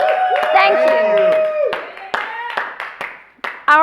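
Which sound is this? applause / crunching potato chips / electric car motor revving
applause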